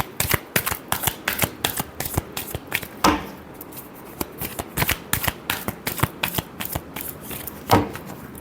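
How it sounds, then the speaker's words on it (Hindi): Tarot cards are shuffled close up in quick riffling bursts, crisp papery flutters and taps repeating in an uneven rhythm with short pauses, no voice. "Last shuffle."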